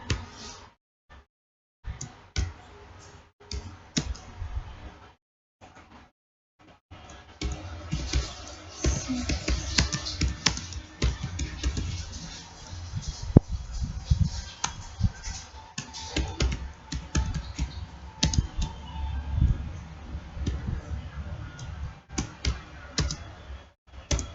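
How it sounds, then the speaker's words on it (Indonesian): Someone types a name on a computer keyboard while building a PowerPoint lesson, giving steady close clatter and clicking of keys with brief pauses, quiet at the start and then continuous, with no talking. "Saya di sini mengetik nama saya."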